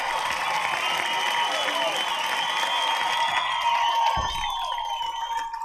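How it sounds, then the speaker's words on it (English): Audience applause and cheering for a comedy variety show fill the space steadily and loudly, a dense wash of clapping with some crowd voices and whistles mixed in. "Give yourself a round of applause, folks."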